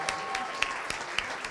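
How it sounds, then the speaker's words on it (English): Applause from the audience at Burlington Idol 2019, a local singing competition, as the round-three contestants are honoured: a soft, steady patter of many clapping hands with a few sharper claps, fairly distant and subdued throughout. "let's get a big round of applause for all of our contestants"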